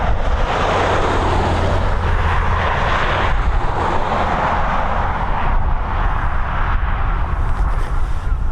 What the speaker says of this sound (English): A330 on taxi now to begin its journey over to Miami.